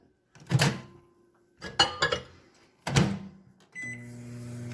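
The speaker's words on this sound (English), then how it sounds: "We're going to put it in the microwave and let it melt" Three clunks of a microwave door and buttons being pressed, then the oven starts with a steady electric hum, close by, melting an ingredient for brownies.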